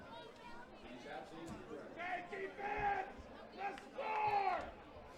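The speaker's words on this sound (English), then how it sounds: "Hear the call coming from the crowd." A crowd in the stands at a college football game between Diablo Valley College and Sierra College calls out in rising, chant-like shouts, several voices overlapping in bursts with a distant, echoing quality.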